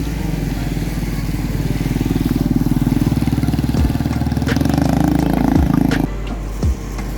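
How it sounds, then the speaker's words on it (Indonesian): A motorcycle that stalls after being washed in floodwater. Its engine idles loud and close with a rough, uneven throb, and its pitch sags and sputters toward the end. "Ini si tampan motornya mogok."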